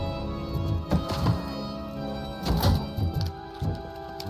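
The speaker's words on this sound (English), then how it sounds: "RoboCop doesn't take fall damage." RoboCop lands from a fall in RoboCop: Rogue City, with heavy metallic thunks and clanks rising from a game soundscape of steady ambient tones, including one strong impact cluster near the middle.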